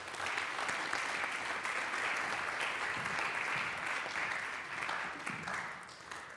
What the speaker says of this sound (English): Please offer a big round of applause for Nick Katsouris.